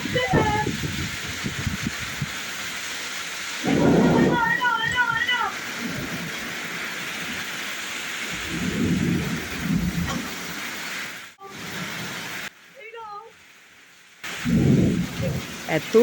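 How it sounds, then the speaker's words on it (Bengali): Heavy rain with a thunderstorm, hail beginning to fall, roars as a steady wash with rumbling bursts of thunder, loud throughout, while voices speak intermittently over it. "খুব বৃষ্টি খুব যেমন ঝড় তেমনি বৃষ্টি আর তেমনি বিদ্যুৎ চমকাচ্ছে"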